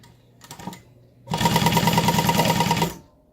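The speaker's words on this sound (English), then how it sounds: "Right now it's sewing" A Tacsew GC6-6 industrial sewing machine, one with a feed dog that fails to pull the fabric through, runs in a steady rapid burst of stitching for about a second and a half after a few soft clicks, close and loud with no talk.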